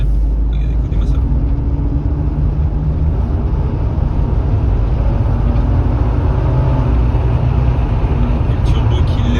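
A Toyota Supra 3.0 turbo mk3 engine and exhaust rumble steadily and loudly at close range, with a dense low roar and some air noise throughout.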